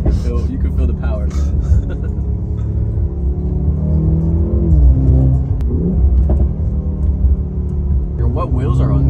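A car engine rumbles deep and steady, swelling into a rev near the middle, with people talking over it throughout inside a vehicle fitted with 22-inch wheels.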